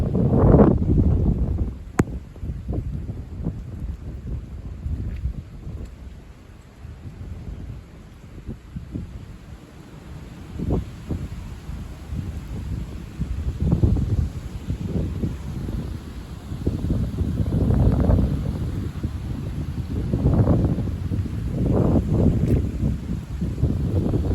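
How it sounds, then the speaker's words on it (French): Strong gusting storm wind buffets the microphone in heavy low rumbling surges that rise and fall throughout, with no voices. "le vent va progressivement faiblir avec ce temps plus froid"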